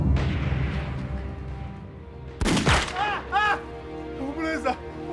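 Gunfire from a Japanese sharpshooter in a wartime film, a sharp loud blast midway that rings out, set among voices with a low rumbling background.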